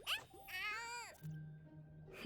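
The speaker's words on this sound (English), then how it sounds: "Oh, oh, the cat is nibbling on her foot." A cat meows in the Honkai Star Rail video game: a rising and falling tonal mew, then a longer drawn-out wavering meow, followed by a faint low hum and a brief closing sound, fairly quiet overall.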